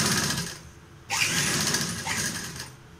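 A sewing machine stitches the side seams of a homemade cloth face mask, its motor running as a steady close whir with a louder burst of stitching partway through, no voices.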